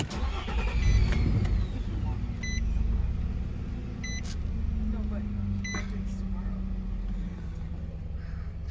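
A 2012 Nissan Pathfinder Silver Edition is started, cranking and catching into a loud, steady idle, with a few short chimes from the car and voices speaking over it.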